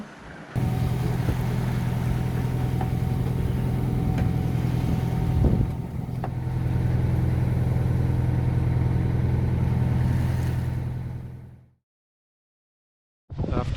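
A sailing yacht's inboard motor running at sea, a steady low droning hum with wind noise over it, which stops abruptly near the end and leaves near silence.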